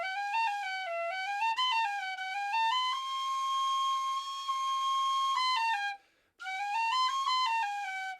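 A tin whistle plays a finger exercise using C natural, with clear, bright notes rising and falling in quick runs, then holding a long steady tone before a brief pause and another run.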